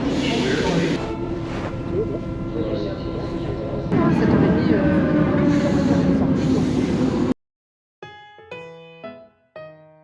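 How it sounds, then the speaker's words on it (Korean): A Paris metro train pulls into the station with a loud, continuous rumble and rising roar that swells, then cuts off abruptly, followed by a short chime melody. "조심하세요. 지하철이 왔어요."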